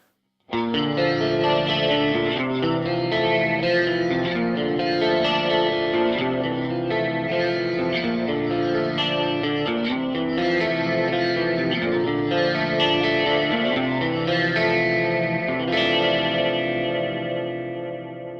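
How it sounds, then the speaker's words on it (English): A clean electric guitar plays chords and picked notes through the sine chorus effect of a Fender Mustang GT40 amp, shimmering and gently wobbling, sustained and full throughout. "This is a Sine chorus on a clean sound."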